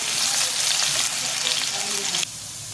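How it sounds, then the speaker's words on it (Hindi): Loud, steady sizzling of chopped onions frying in hot oil for Lahori brain masala, close up, with faint stirring scrapes and a slight drop in intensity near the end. "अब हमने इसमें अपनी जो प्याज काटी हुई रखी हुई थी हमने वो डाल देनी है"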